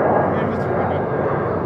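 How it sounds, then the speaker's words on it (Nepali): An airplane passes over a sandy seashore picnic spot, its steady broadband roar filling the short stretch at an even, fairly loud level with voices faintly mixed in. "यसरी प्लेन उड्छ यहाँ"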